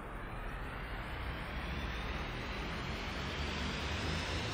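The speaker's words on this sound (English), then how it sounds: "let's continue our flight. Right, one third of full throttle" Steady drone of an aircraft engine at one-third throttle in the Roblox flight game Aeronautica, a broad, constant roar holding level and close for the whole stretch.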